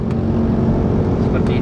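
A 2012 Honda CR-V with automatic transmission shifted manually through its gears, its engine humming steadily with a low drone and slight revving, heard from inside the cabin.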